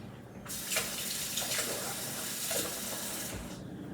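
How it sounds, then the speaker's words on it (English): Water runs from a kitchen tap for several seconds while hands are wet under the stream, a steady splashing hiss that shifts as the flow is broken, then cuts off near the end. "So I'm just gonna get my hands wet."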